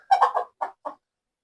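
A young rooster gives several short, soft clucks in quick succession while eating feed in its cage, close and clear with brief pauses between calls.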